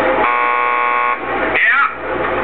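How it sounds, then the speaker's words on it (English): Door buzzer at a police lockup in Max Payne 2: a loud, harsh electric buzz that holds steady for about a second before a short electronic chirp, with game voices nearby. "Just press the buzzer by the door."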